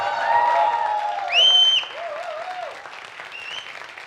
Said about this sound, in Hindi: एक बारी धुन कलेक्टिव के लिए जोर से ताली बजाएंगे यार.